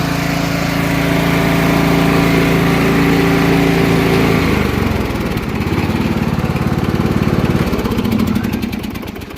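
A small lawn tractor engine runs loud and close with a steady buzzing drone, then winds down after it is switched off, sputtering and slowing into a fading rattle, no talking.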